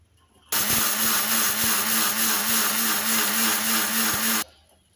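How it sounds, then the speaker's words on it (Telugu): A mixer grinder whirs at full speed for about four seconds, grinding cooled roasted ingredients into a coarse semolina-like texture; loud, close, steady motor hum that starts and stops abruptly. "ఇవ్వండి మిక్సీ పట్టుకుందాం"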